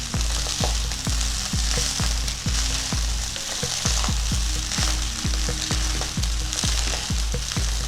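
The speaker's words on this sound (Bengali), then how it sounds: "খুব ভালো করে নাড়িয়ে চাড়িয়ে ভেজে নিলাম" Ghee rice frying in a pan with loud, continuous sizzling, punctuated by regular scraping strokes of a spatula as it is stirred, close and prominent with no talking.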